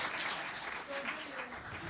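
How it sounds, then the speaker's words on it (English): An audience at a school spring recital claps for the performers in a brief burst of applause, with voices mixed in. "definitely give yourselves a round of applause."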